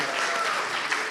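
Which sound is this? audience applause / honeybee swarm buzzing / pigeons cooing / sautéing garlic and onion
audience applause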